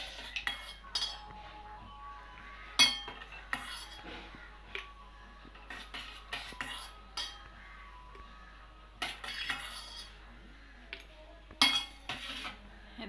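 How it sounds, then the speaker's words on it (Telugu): Ice cubes drop into a glass of raw green mango juice, making a scattered series of sharp clinks and clatters, some louder than others, over quiet background. "ఐస్ క్యూబ్స్ వేసుకుందాం."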